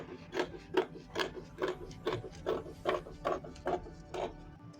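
Scissors trim fabric for a sewn pocket in a run of about eleven evenly spaced snips, crisp and close, with no talking.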